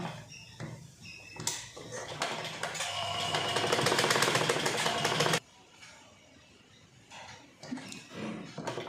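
Sewing machine stitching a blouse sleeve, starting with a few clicks and knocks before a steady whirring run of about four seconds that stops abruptly, followed by quieter handling taps.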